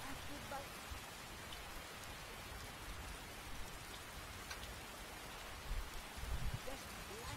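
Steady rain in the video game Skyrim pours down in a dense, even hiss, with a few heavier patters and low rumbles mixed in.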